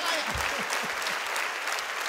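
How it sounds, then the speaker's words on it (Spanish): Dense, steady audience applause fills a live jazz concert at the Jazz Plaza 2019 festival, continuous claps throughout with a faint voice low underneath. "Aplauso para la orquesta de siempre."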